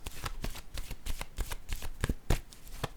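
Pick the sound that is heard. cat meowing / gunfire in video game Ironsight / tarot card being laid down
tarot card being laid down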